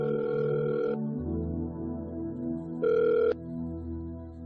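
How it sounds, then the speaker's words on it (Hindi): A telephone rings in a home, two electronic ringing bursts separated by a pause, loud and close with a tonal harmonic buzz, and no talk over it. "अर्जुन, नित्या का फोन"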